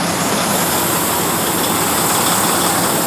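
A semi truck engine idles loud and close, a steady, unbroken rumble with broadband roar and no voices.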